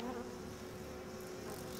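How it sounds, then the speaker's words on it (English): Bees buzzing in the horror video game Outlast 2, a close, continuous droning hum lasting under two seconds at low volume. "Are those bees?"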